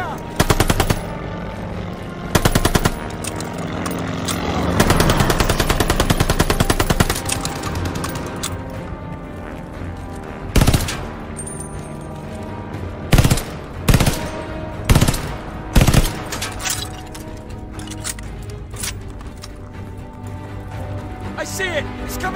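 Machine gun fire in the Call of Duty Vanguard video game, loud bursts of automatic shots repeating through a busy battle mix with explosions and shouted voices.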